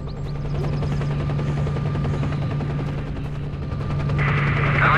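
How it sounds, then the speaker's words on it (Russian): Helicopter in S.T.A.L.K.E.R.: Shadow of Chernobyl, a steady rotor hum with a low droning tone and rapid chopping texture, moderately loud and continuous, with a brighter burst near the end. "Вертолет."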